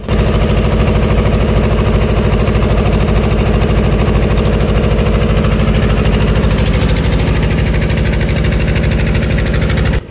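A loud, close engine chugs in a fast, steady rhythm throughout, a fishing trawler's motor running without pause on the Bay of Bengal.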